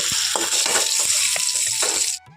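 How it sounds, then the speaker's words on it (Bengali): Thick-cut potato pieces fry in hot oil with a loud, dense sizzle and soft bubbling knocks close by, before the sound drops away sharply near the end. "এখন দেখো আমার আলুটা লাল লাল করে ভাজা হয়ে গেছে"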